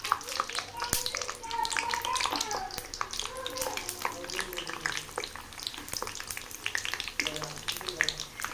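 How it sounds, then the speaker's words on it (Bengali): Potato sticks for French fries crackle and sizzle steadily in hot oil, a dense close frying hiss with scattered pops throughout, faint voice-like murmurs underneath. "এখন আমি এখান থেকে আলুগুলো দিয়ে দিব তেলের ভিতর।"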